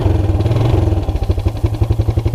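Suzuki Quadrunner LT230E ATV engine idling right after a cold start on choke, a loud close-up chugging with rapid, even pulses and a metallic clatter, no voices.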